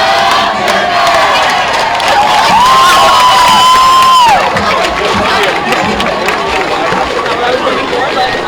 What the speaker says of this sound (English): the Del Campo crowd still pretty lively here